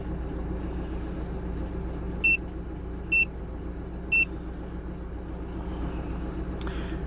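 A Mazda CX-7 2.3 turbo petrol engine with 170,000 km idles while warming up from a cold start, a steady low hum under three short, evenly spaced electronic beeps.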